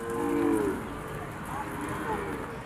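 A single cow gives one low, drawn-out moo near the start, followed by quieter farmyard ambience and faint distant lowing.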